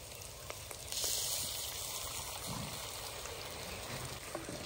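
Water poured into fish masala frying in a kadhai sets off a sudden burst of loud hissing sizzle that settles into a steady crackling bubble, with no voices.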